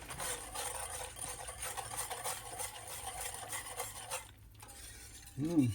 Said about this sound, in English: Get it all stirred around